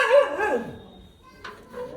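Female dog barking at a quarrel in a house across the street, one loud close bark followed by a fainter yip.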